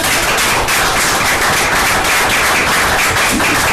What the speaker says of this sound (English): let's have a little applause